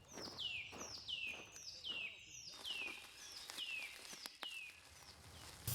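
A bird in the Amazon rainforest calls repeatedly, a string of sharp descending chirps in steady rhythm, moderately near over a faint forest background.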